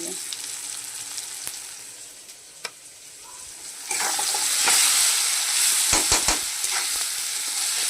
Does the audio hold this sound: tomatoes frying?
yes